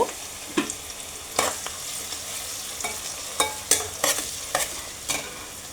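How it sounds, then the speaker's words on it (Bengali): Chopped garlic frying and being stirred in a pan for a spinach-and-prawn dish, a steady sizzle broken by repeated sharp scraping strokes of a utensil, close and fairly loud, with no voices. "আমি দিয়ে দিচ্ছি রসুন কুচিগুলো, দিয়ে একটু ব্রাউন কালার হয়ে আসলে আমি বাকি মশলাগুলো দিয়ে দেব"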